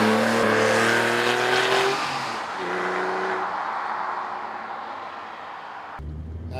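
A Porsche 911 (996) Carrera 4S engine with standard exhaust revs hard with rising pitch, then eases off and revs again before dropping away, loud and close.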